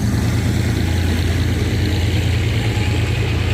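A GEK locomotive hauling four Daewoo diesel railcars into the Bangkok yard produces a loud, steady, deep rumble that stays close and continuous, with no voices over it.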